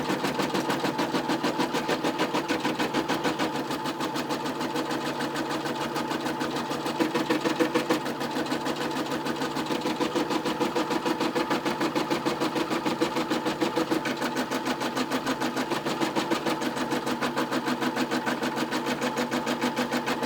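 A Brother M320e embroidery machine runs a tacking stitch on a Snoopy T-shirt, a fast, steady mechanical chatter of needle strokes that stays even and close for the whole stretch, with no talking.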